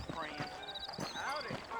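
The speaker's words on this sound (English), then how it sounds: "I got the horses saddled up and ready out front." Horse hooves clip-clop in a Red Dead Redemption game, a steady clopping rhythm up close while a voice talks over it.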